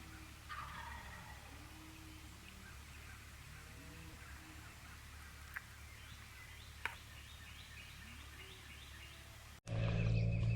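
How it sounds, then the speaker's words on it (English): Wild turkey gobbling in open country on opening day of spring season in Kentucky, a faint distant gobble amid quiet outdoor ambience, followed by a brief loud burst near the end. "That turkey's still gobbling right here somewhere."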